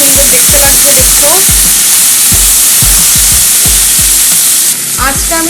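Mushrooms frying in a pan over a low flame: a loud, dense sizzle with quick, regular stirring scrapes and knocks about twice a second, heard up close and alone.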